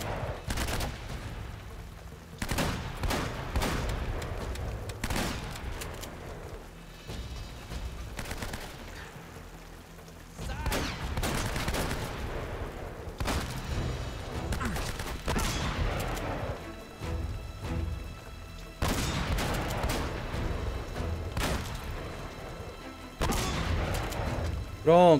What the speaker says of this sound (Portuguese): O último tiro dele é o tiro de precisão.